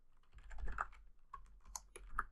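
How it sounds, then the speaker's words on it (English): Rapid, soft computer-keyboard typing of a console command in a game setup, a quick close run of key taps with brief pauses. "if I were to go in and type in CL_crosshair color"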